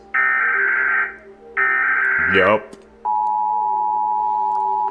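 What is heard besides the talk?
American emergency alert system tone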